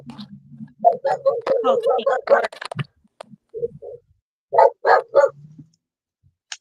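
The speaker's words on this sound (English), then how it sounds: "What's Jack barking at?" A dog barks in a quick string of sharp yips, then falls quiet and lets out a few more barks a moment later, fairly close and loud.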